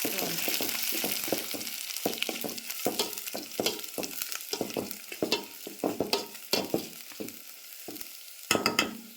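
Potato, capsicum, carrot and onion frying in a pan while being stirred, giving a steady sizzle punctuated by rapid, repeated spatula scrapes and knocks, close and fairly busy throughout with no one talking.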